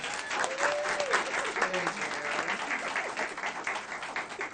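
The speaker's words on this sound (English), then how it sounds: "One round of applause" At a track hall of fame induction ceremony, an audience applauds state indoor champions, a steady, full wash of clapping throughout, with faint voices mixed in.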